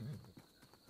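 Horse arriving in Tavern Manager Simulator, a few quick hoof clip-clops at low level, very brief, with a faint voice underneath.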